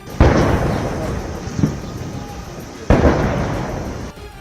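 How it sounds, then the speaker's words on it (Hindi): Ceremonial cannons firing a 21-gun salute for Putin at Rashtrapati Bhavan in Delhi, two heavy booming blasts a few seconds apart, each with a long rolling decay, loud and outdoors. "दिल्ली में राष्ट्रपति भवन पहुंचते ही पुतिन को 21 तोपों की सलामी दी गई"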